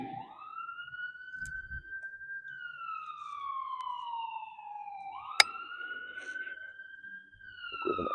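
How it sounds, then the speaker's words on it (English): An ambulance siren passes by outside, its wailing tone rising and falling steadily across the whole stretch, clear and moderately near, with a few brief knocks and clatters nearby. "We have an ambulance going by."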